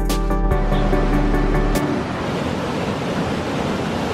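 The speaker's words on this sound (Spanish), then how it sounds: "Encontramos un camino donde pasa el agua." Water rushing beneath a bridge in Andorra, a loud, steady broadband roar that fills the whole stretch without pause, with no voices.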